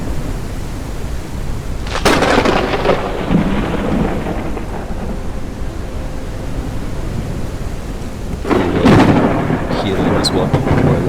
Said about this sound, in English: those thunder strikes are loud